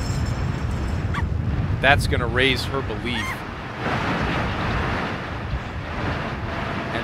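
Wind gusts from the Weather Witch in the game Ghost Master make a continuous roar that swells and fades, while a voice talks over part of it.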